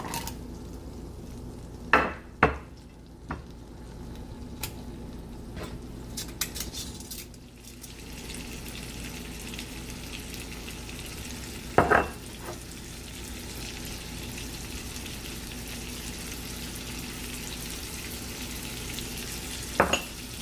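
Butter sizzles in a skillet for Cajun shrimp, a soft continuous frying hiss broken by a few clinks of a spoon and pan, with no talking.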